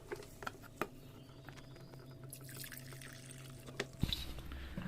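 Water is poured and mixed into a trichlorfon solution, giving scattered splashes, drips and trickles with a few sharper splashes.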